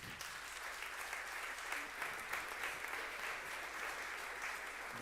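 Steady audience applause at a jazz festival tribute event, a dense wash of many hands clapping, fairly faint and distant, continuing evenly throughout without talk.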